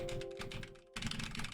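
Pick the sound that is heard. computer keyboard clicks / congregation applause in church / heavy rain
computer keyboard clicks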